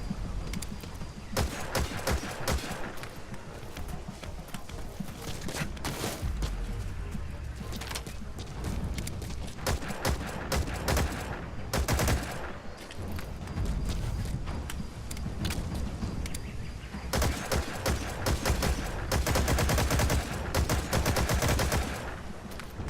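Gunfire rattles in an online match of Metal Gear Online, loud dense bursts of automatic and rapid shots repeating nearly nonstop across the whole stretch, close and harsh.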